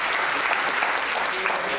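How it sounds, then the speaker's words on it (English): Steady applause from an audience at a live quiz event, honoring the quizmaster, a young woman introduced by her father; dense, even clapping throughout with a hint of voices beneath. "So we can clap for Raisa."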